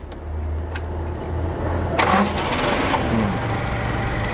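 A gas-fuelled forklift engine is cranked and catches, then settles into a smooth, low, steady idle, heard close with no talking.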